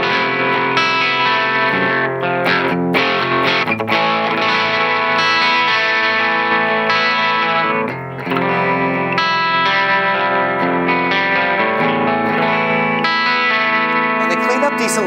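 Distorted electric guitar chords and riffs through a Blackstar Amped 3 on its EL34 tube voicing, with a thick, throaty amp tone and some chorus and reverb, playing continuously and loud.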